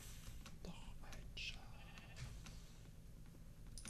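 A sheep in the video game Minecraft bleats faintly a few times over a quiet, low background, with a soft voice murmuring nearby.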